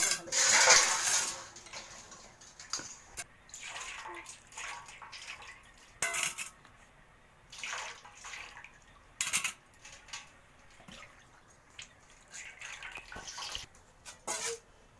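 Cut young jackfruit pieces are rinsed with water in a kitchen, giving faint, intermittent splashes, drips and small clinks, with a louder splash at the start.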